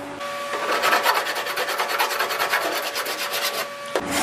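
A metal body panel being scratched and filed before filler, heard as a rapid, even run of close rasping strokes that carries on steadily with no talking.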